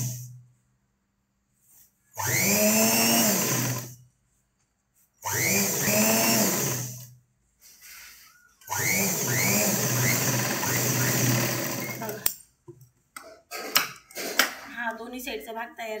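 A sewing machine running in three bursts of steady whirring stitching as a fabric edge is folded and sewn for piping, each run several seconds long with short pauses between, close and fairly loud.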